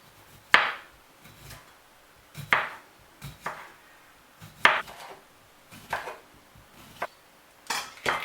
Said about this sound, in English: Now chop your cucumber into tiny slices like this.